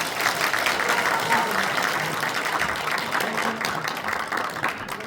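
A hall audience at a book concert in Yeongju's civic hall breaks into steady, dense applause welcoming a former middle-school teacher, clapping sustained at even loudness throughout.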